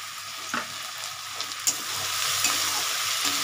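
Tomatoes go into a pan of chicken kasa frying in spices, giving a steady, close sizzle with a few sharp stirring clinks and no talking.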